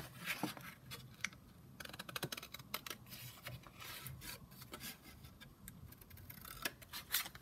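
Scissors snip and rustle through a paper birthday card to cut out a word, making faint close crisp cuts and scraping paper sounds in irregular bursts in a quiet room.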